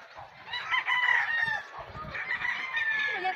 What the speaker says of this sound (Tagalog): Uy, ang dami namang manok.